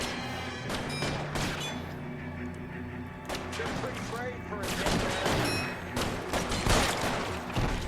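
Gunfire in the L.A. Noire video game, a rapid string of sharp, loud shots and bursts, some layered with engine noise and music, continuing throughout.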